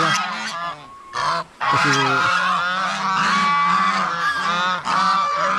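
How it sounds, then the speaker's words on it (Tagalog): Geese on a farm honk repeatedly and loudly at close range, a busy overlapping chorus of calls with brief pauses, and a few spoken Tagalog words slip in among them. "Yung ating mga gansa mga kaprobinsya, nabawasan yan ng isang pares"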